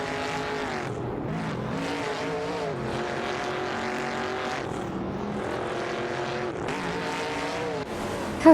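Race cars, including a Dodge Charger and an AMC Matador, roar through a racing video game with engines droning and shifting pitch together, a loud continuous layered whine that rises and falls as they jockey for position.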